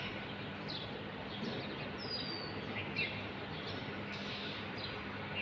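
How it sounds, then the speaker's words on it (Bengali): Faint bird chirps and short calls at dawn rise now and then over a soft, steady background hiss, distant and sparse. "চারপাশে পাখি ডাকতেছে কাক ডাকতেছে"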